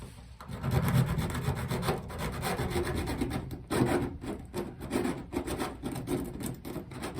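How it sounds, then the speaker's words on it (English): A metal file is drawn repeatedly over the back edge of a window part to strip off a burr, giving steady close rasping strokes with brief pauses between them. "put the file up there on the back and then pull it down, and then it kind of pulls over the burr"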